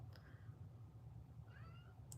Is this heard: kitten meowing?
yes